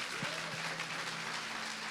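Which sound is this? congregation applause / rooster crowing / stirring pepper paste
congregation applause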